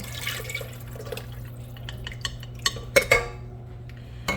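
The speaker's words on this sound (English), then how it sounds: "I'm just going to go ahead and pour this over in the mixing bowl." Liquid splashes and drips into a mixing bowl for homemade sandwich bread dough, with a few light clinks of a utensil against the rim, all fairly quiet.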